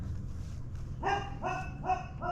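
Dogs in a backyard bark four times in a quick series of sharp, moderately distant barks over a low outdoor hum.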